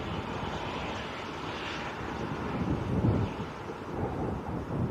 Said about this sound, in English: This is a Maltese registered Ryanair.